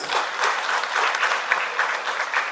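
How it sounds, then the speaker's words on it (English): Steady applause from a crowd at a university job fair, many hands clapping in a dense, continuous patter that holds at an even level throughout. "Another round of applause"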